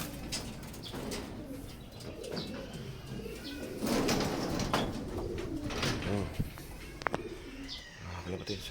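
Racing pigeons at a derby loft coo softly and flutter nearby, with scattered chirps and a few sharp wing claps and knocks, while someone talks.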